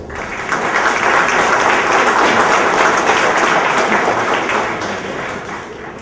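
Audience applause at a Spanish-language keynote lecture, a steady wash of many hands clapping that swells in and holds for several seconds before gently tapering off.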